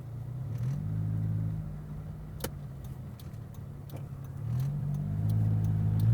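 Mid-1980s Suzuki car engine revving to high RPM, a moderate droning hum that climbs in pitch twice with small clicks in between, heard from inside the car.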